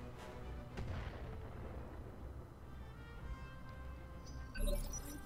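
Gunfire and missile blasts in a video game battle, heard as faint, muffled distant booms and bursts over a low rumbling background, with no one speaking.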